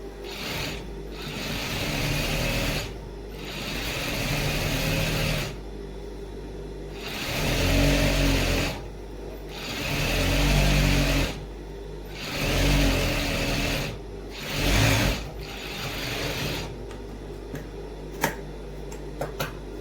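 Sewing machine stitching fabric from the inner side, running in several bursts of a few seconds each with whirring motor hum and rattling needle action, separated by short pauses.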